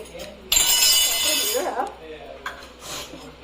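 A metal cooking pot is set down on the stove to start making Manchurian, giving a bright clattering clink followed by fainter scrapes and knocks, with voices talking.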